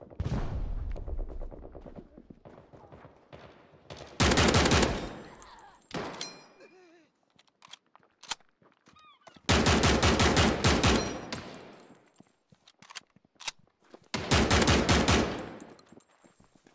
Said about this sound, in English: so we'll open up with the MMG